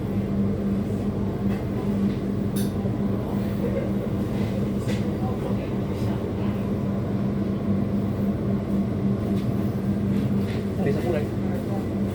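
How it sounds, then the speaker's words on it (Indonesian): Kamandaka passenger train on the Cilacap–Semarang route pulling away from Weleri station: a steady, continuous low rumble and hum of the moving carriages, even and unbroken throughout. "perjalanan kereta api Kamandaka rute Cilacap Semarang sudah diberangkatkan kembali"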